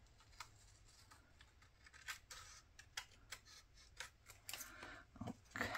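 Scissors cutting paper for a Polaroid journaling card, a series of quiet, close snips and crisp slicing sounds coming irregularly, growing busier toward the end, with no talking.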